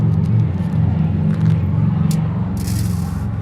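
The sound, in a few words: neighborhood road traffic, car passing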